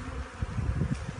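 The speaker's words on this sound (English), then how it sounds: "you can actually see a lot of bees on the side here" Honeybees buzz busily around the side of a hive that is being split to make an artificial swarm. The hum is close, steady and dense, with no talking.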